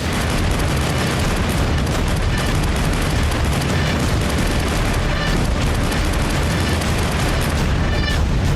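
Dense, continuous volleys of Chinese military gunfire at a training range crackle and boom without pause, loud and sustained, with no voices.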